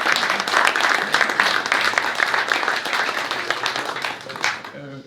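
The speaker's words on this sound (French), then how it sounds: "je vous demande de les applaudir" A conference audience at an event on digital technology and building energy efficiency gives a round of applause. The clapping is dense and steady, then fades, and talking is heard near the end.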